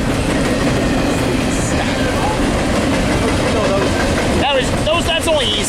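Freight train rumbling past at Cajon, a loud continuous roar of rolling wagons with metallic squeals near the end, while people talk and exclaim over it.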